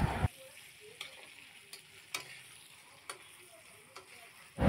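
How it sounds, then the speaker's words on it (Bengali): Onions fry quietly in a pan for ghugni, a soft, faint sizzle with a few light ticks and stirring clicks, set between louder bumps at the start and end. "তা পেঁয়াজটা এবার ভাজা ভাজা হয়ে এসছে"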